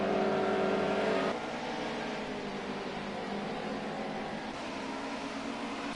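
Historic touring cars, a BMW and a Ford, racing on a circuit, heard as a steady broadband engine roar that dips slightly after the first second and then holds constant, with no voices.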